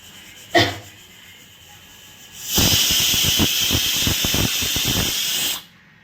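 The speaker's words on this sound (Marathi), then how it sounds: "कुकरच्या पाच शिट्ट्या झालेल्या आहेत" A pressure cooker on the gas cooking mutton lets out a short puff, then a loud, sustained hissing whistle lasting about three seconds before cutting off.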